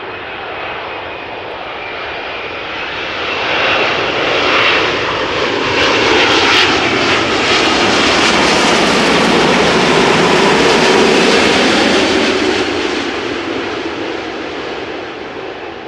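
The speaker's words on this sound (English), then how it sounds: "Air Canada flight 900 coming in next. Boeing 7878 arriving from Montreal." An Air Canada Boeing 787-8 jet on arrival at Amsterdam Schiphol roars in loud and close, its engine noise swelling steadily to a broad peak before easing off slightly as it passes, with no talk over it.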